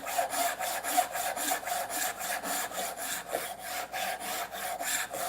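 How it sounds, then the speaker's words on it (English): A hand saw cuts a wood tenon shoulder in steady back-and-forth strokes, with an even rasping rhythm of about two strokes per second, close and clear with no talking. "Then I come back here and I lower the saw into it."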